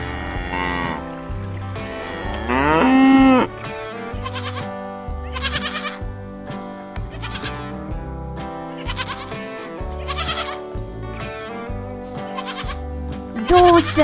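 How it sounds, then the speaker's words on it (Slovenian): A cow moos once, briefly, low and drawn out, partly buried under steady, busy background music that runs throughout. "Krava."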